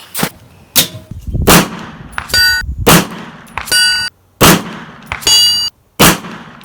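PSA AKV 9mm carbine shots fired one at a time at a snowy range, each sharp crack followed moments later by the ringing clang of a steel plate hit at 300 yards, several repeating in steady rhythm.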